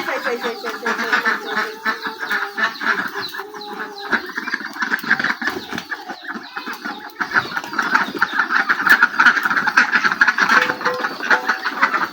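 Ducks quack throughout beside an outdoor village cooking spot where a large pangas fish is being cooked, their calls steady and moderately close amid general background bustle.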